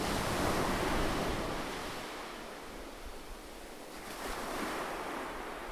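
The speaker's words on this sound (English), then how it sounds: "adding to the soothing sounds of the crashing waves" Ocean waves crash steadily on a beach, a broad rushing wash of surf that swells and recedes, fairly close and continuous with no voices.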